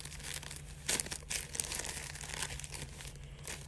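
A packet of charcoal is cut and pulled open, giving close, quiet crinkling and tearing of packaging in a few short bursts over a low steady hum, with no talking.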